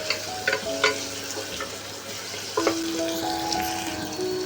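Chopped green chilli frying in a pan, a fairly loud continuous sizzle with a few spoon scrapes and taps early on and near the middle, plus faint tonal ringing, no talking.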